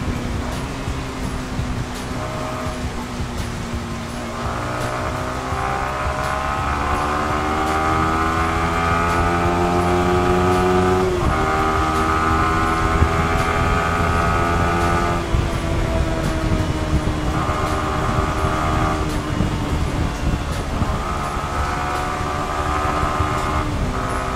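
Yamaha R15 v3 motorcycle with a stock air filter, accelerating hard through second, third and fourth gears, its engine note rising in pitch, dropping at each shift and climbing again, loud and close throughout.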